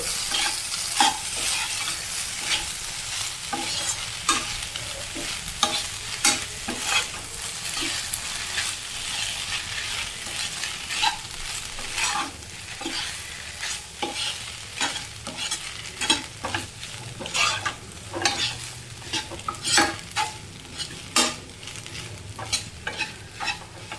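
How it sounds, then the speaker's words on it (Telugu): Boiled pasta is stirred into an egg mixture in a hot pan, with repeated scraping knocks of the spoon against the pan over a steady, close sizzle and no talking. "ఇప్పుడు పాస్తానైతే ఈ ఎగ్లో అయితే వేసేసుకోవచ్చు వేసుకొని అంత మిశ్రమంతా కలిసేలాగా బాగా కలుపుకోవాలి"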